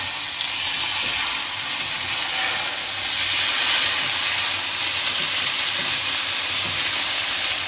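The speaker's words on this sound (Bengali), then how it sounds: "এই ম্যারিনেশন করা চিকেনগুলো এতে দিয়ে আমি ফ্রাই করে নেব" Marinated chicken pieces fry in ghee in a pan over a medium flame, giving a dense, steady, loud hiss and sizzle that holds without pause and with no voices.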